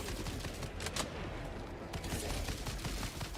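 Dense, continuous burst of automatic gunfire from a teammate's weapon in the co-op shooter game Helldivers 2, loud and rapid with overlapping shots and no clear gaps, no voices.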